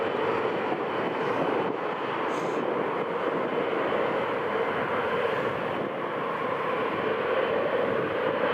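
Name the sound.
KLM airliner coming in to land on runway 07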